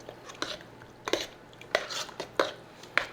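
Ingredients for Southern macaroni and cheese are beaten together in a bowl, with a series of close, sharp clinks and knocks of a utensil against the dish at an uneven rhythm.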